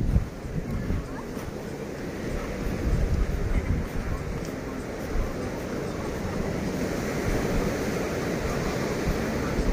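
Strong surf rolls onto Icacos beach in Acapulco, a steady heavy roar of breaking ocean waves mixed with gusty wind buffeting the microphone, loud and continuous throughout.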